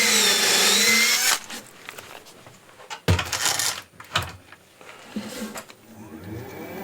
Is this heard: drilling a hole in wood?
yes